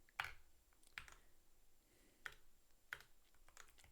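Mechanical gaming keyboard clacking during a typing test, a handful of sharp, separated key strikes spread across a few seconds, close and crisp against quiet background.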